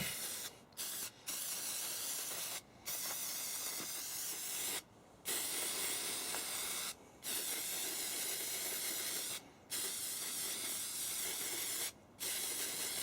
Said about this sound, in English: Right, here's what you do, look, you just spray that stuff on there.